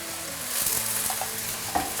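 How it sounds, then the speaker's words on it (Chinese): Garlic and red-oil chili bean paste stir-fry in a hot wok, a steady close sizzle with light scraping and stirring noises for a couple of seconds, no voices. "快速给它炒散，好，来少许的蒜米， 来点豆瓣酱，红油豆瓣酱，"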